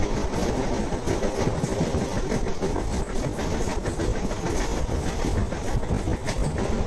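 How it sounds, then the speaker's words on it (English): Passenger sleeper train rolling through Kerala, India: a loud, continuous rumble with a rhythmic clickety-clack of wheels over rail joints, heard from aboard with no talking. "Hop aboard as we journey from Koshan to Tiruvalla, experiencing the charm of Kerala by train."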